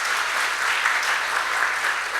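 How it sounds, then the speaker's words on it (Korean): Church congregation at a dawn prayer service applauding students, a dense, steady round of clapping filling the room for a couple of seconds, with no voices over it. "우리 큰 박수로 우리 축복해 줍시다"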